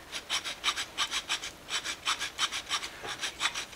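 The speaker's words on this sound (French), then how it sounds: "Maintenant, il me suffit de prendre une lime" Metal file rasping across a freshly cast lead piece, a steady run of about fifteen rhythmic back-and-forth strokes, close and moderately quiet, with no voices.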